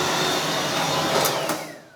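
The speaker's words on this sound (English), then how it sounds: "Stop playing with my blow dryer in there." A hair blow dryer runs steadily in a cruise ship verandah stateroom bathroom, a loud, continuous broadband whoosh that holds for most of the moment before tapering off as it is switched down.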